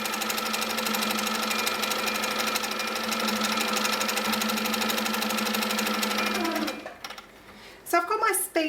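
An HQ Sweet Sixteen sit-down longarm quilting machine stitching raw edge applique, a steady, fast mechanical hum with an even rapid needle rhythm that runs loud and unbroken, then stops abruptly, followed by brief quieter handling sounds.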